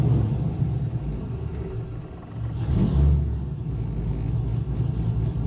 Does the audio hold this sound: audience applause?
no